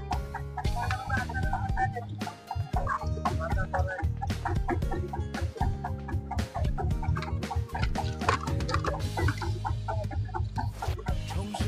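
Several chickens for sale cluck continuously up close on a river char island, with overlapping throaty clucks in a busy, uneven rhythm and a brief dip midway, with no talking.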